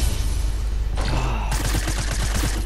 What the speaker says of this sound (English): I got a few kills to that shotgun